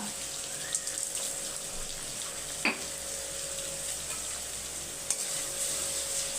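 Onions sauté in a pan with a soft, even hiss. The sound is fairly faint and steady, broken by a few isolated light taps or clicks.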